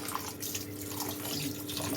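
Tap water runs steadily into a sink to rinse ingredients while making paaladai pradhaman payasam for Onam, a continuous soft hiss and splash with faint drips and no talking.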